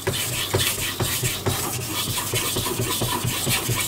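A carbon steel blade is drawn over a wet King 1000 whetstone in quick, regular rasping strokes, about two or three per second, close and steady with no talking.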